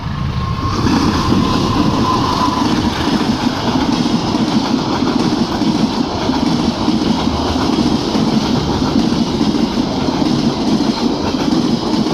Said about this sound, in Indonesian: kereta api Mutiara Timur reguler sudah melintas dengan lokomotif CC018334